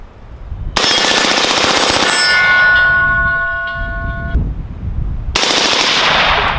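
An AR-15 fitted with an Alamo-15 trigger fires 55 grain rounds in a loud, close, rapid burst, then a ringing metallic tail as it stops, followed by another sudden burst at the end.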